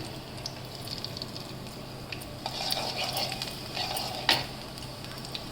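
Chopped onions and garlic frying in oil for veg Manchurian, a soft steady sizzle with occasional stirring clinks and scrapes of a utensil against the pan, fairly quiet with no voices.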